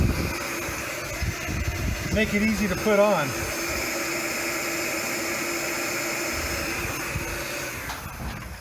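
A heat gun blows a steady, close whoosh of hot air while warming a part on a shuttle bus RV conversion to make it flexible. Someone speaks briefly near the start over the constant roar.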